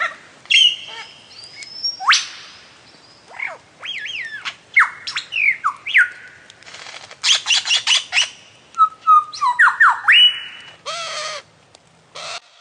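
A lyrebird mimics other sounds in a varied outdoor sequence of squawks, whistled sweeps, caw-like calls and rapid chattering bursts, loud and close with short pauses between phrases.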